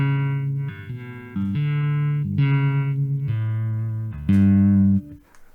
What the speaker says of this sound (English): here we get that kind of wah-wah sound, right? So it's a working tone control